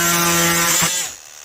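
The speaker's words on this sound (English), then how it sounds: "This is oscillating tool." Oscillating multi-tool buzzes steadily as it cuts into the dashboard plastic of a 2005–2010 Hummer H3, a close, loud whine that cuts off abruptly and fades out.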